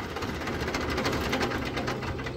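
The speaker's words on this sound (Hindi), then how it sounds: "बंद कर दीजिए आप ट्रैक्टर एक बार।" A 51-year-old Zetor 2011 RS tractor engine runs at a steady, close, continuous chug with a fast mechanical rattle, without audible talk.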